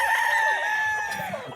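An Elevator Kelso gamefowl rooster at a game farm gives one long, drawn-out crow, clear and fairly close, that tails off at the end against faint background noise.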